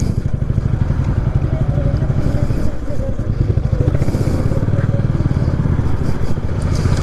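A motorcycle engine runs steadily close by throughout the ride, a constant mid-pitched drone with faint clatter and no clear revving changes.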